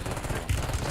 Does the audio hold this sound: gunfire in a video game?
yes